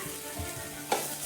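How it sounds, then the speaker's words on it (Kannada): Sweet potato frying in ghee gives a soft, faint sizzle with a couple of short stirring scrapes near the end, heard alone. "ಇದಕ್ಕೆ ಸ್ವಲ್ಪ ಹಾಕ್ಕೊಂಡು ಒಂದು 2 ನಿಮಿಷ ತುಪ್ಪದಲ್ಲಿ ಫ್ರೈ ಮಾಡಿ"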